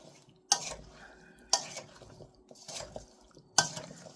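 A spoon stirs a veggie and sausage mixture in a pot, with four sharp metallic knocks against the side spaced about a second apart over soft, quiet scraping.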